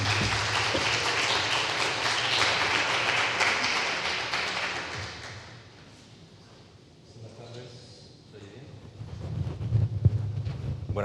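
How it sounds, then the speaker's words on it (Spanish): An audience at a book talk with novelist Ignacio Martínez de Pisón applauds to welcome him, dense clapping for about five seconds that fades out before a voice begins talking. "un aplauso de bienvenida"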